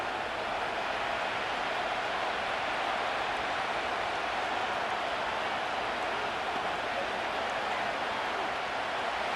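Simulated stadium crowd noise from the Madden 25 football video game forms a steady, faint, hissing roar with no distinct cheers rising out of it.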